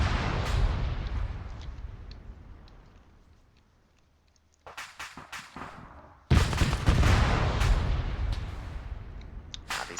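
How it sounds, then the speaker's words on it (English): Sustained gunfire in Arma 3 with the Iron Front mod during a town assault, loud rattling bursts that fade to near silence, then return as sharp separate shots and a dense, heavy volley. "it's just random machine gun fire from this one unit"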